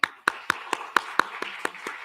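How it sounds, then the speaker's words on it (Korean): Applause from a church congregation during a Sunday morning service, heard as a loose series of about nine separate claps spaced roughly a quarter second apart, fairly close and crisp rather than a full ovation. "네, 박수하겠습니다."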